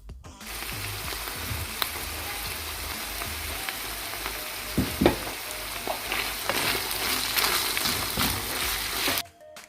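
Minced beef and tomato fry in a pan for a pasta sauce, making a constant close sizzle broken by a few clicks and scrapes of stirring, then stopping abruptly near the end.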